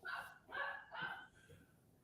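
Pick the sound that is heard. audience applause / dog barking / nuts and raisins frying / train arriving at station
dog barking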